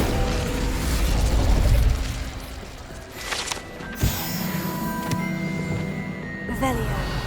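In Hogwarts Legacy, an Incendio fire spell goes off with a whooshing burst and a boom, followed by clattering magical effects and sharp pops.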